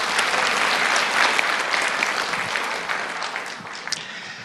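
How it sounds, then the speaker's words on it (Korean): A church congregation breaks into loud, warm applause, a dense, steady clapping that fills the room for several seconds without any talk over it. "우리 뜨거운 박수로 한번 축복하겠습니다."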